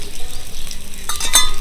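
Chopped tomatoes dropped into a hot frying pan for a country chicken curry, giving a brief burst of close, loud sizzling with a light clink of utensils and no talk.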